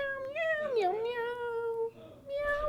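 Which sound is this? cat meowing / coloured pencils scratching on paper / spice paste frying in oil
cat meowing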